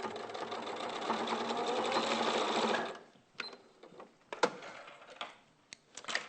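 A sewing machine stitches a seam in a steady, loud continuous run for about three seconds, then stops, leaving scattered faint clicks and handling taps.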